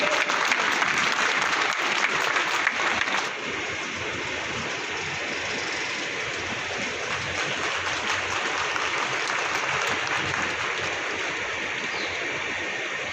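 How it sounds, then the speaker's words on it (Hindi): An audience at an Ambedkar Jayanti gathering applauds continuously for over ten seconds, a loud, sustained rush of many hands clapping that eases a little after the first few seconds. "जोरदार तालियां साथियों, जोरदार तालियां, तालियां रुकने ना पाए"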